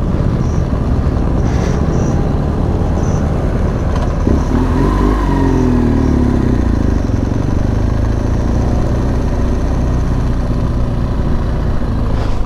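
Motorcycles gathered at a New Year's Day motorcycle blessing at Oropa, a continuous loud engine rumble with idling and revving, one bike rising in pitch midway as it pulls past, close by.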